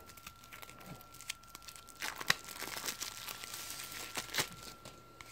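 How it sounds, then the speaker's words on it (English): The wrapper of a card pack for the Necromunda Underhive game is torn open, giving close, quiet crinkling and a few sharper tearing crackles over several seconds, with no talking. "Pop open our card pack here."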